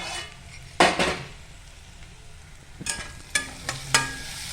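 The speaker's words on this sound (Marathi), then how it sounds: "इथे आता आपण डिश काढून घेतोय." Metal dishes and utensils clank in a home kitchen while matar poha cooks: a sharp clatter near the start, then several quick knocks and scrapes close by, with quiet kitchen noise between them.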